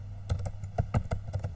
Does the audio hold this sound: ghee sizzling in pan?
no